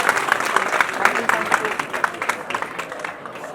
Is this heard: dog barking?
no